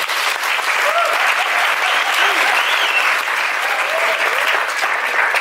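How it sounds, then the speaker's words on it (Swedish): Audience applause fills a lecture hall, steady and loud from start to finish with no pauses, many hands clapping together at close range. "En applåd!"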